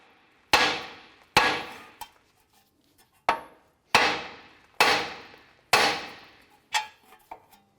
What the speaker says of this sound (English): we're going to now use a hammer to strike the knuckle right here and release our tie